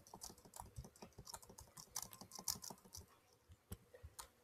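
Rapid computer keyboard clicking during a video game, with dense bursts of sharp keystrokes that come in uneven flurries and stay close and fairly loud.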